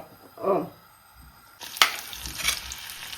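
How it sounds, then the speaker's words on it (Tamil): Tomatoes sautéing in a pan of chili-fried oil for tomato chutney: a brief stirring scrape, then a sudden burst of close sizzling that carries on loudly to the end, with no voices. "தக்காளி வதக்க போகிறீங்க கொஞ்சமாக எண்ணெய் விட்டு என்ன இந்த மிளகா பொறிச்ச எண்ணெயிலேயே வதக்கலாம்"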